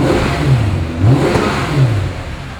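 A 2007 Mercedes-Benz E63 AMG engine gives three quick, deep revs close by, each surging and falling back to a low idle rumble.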